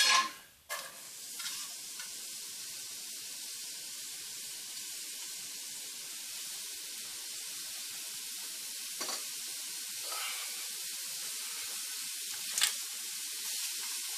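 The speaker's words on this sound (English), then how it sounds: "let's go ahead and saute these onions and get this thing going" Onions sautéing in a pan for enchiladas give a steady, close sizzle and hiss throughout, with a few brief stirring scrapes and clicks of a utensil against the pan.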